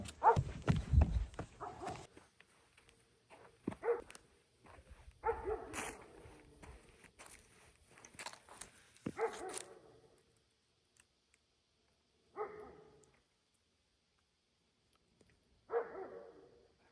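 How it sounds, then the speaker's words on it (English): A dog barks in short scattered bursts at home, with clicks and footsteps between them and long quiet gaps toward the end. "Hope you can hear me over the dog"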